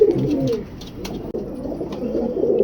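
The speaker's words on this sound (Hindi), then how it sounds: "ये फीमेल कबूतरी है" A female Imam Din pigeon coos close by, soft throaty rolling calls in short repeated bursts, with a brief pause midway and no talking.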